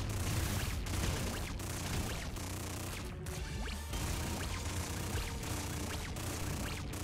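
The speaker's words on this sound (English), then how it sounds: "Ion cannon? I'll take an ion cannon, why not?" Ion cannon fire from the video game Nuclear Throne Ultra Mod comes as a dense run of rapid, rumbling blasts and crackling bursts over game noise, with a brief lull partway through.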